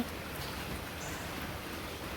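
Rain falls outside in a village on an early morning, a steady, soft hiss of drops with no break and no voices over it.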